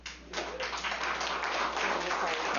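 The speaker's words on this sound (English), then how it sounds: "Members of the audience, I would appreciate if you would withhold applause" At a Michigan Senate committee hearing on election issues, the audience bursts into applause after testimony, starting abruptly and continuing as steady, fairly close clapping from a room of people.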